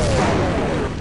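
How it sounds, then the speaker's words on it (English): A single heavy blast from bombs exploding in the Half-Life video game, a loud dense boom that fills the brief moment and fades slightly at the end. "Bombs are falling."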